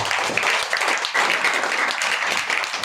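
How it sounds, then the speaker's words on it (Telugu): A church congregation applauding at a memorial service, dense continuous clapping that swells and dips slightly in waves throughout. "చప్పట్లు కొట్టి దేవుని మహిమపడు."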